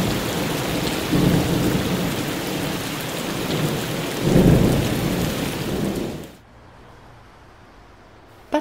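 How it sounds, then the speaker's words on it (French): Violent thunderstorm in southern Bolivia, heavy rain pounding surfaces with deep thunder rumbles swelling twice, loud and close, then the downpour cuts to a quiet hiss near the end. "La pluie est violente et inonde tout."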